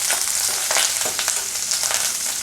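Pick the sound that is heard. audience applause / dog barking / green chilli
green chilli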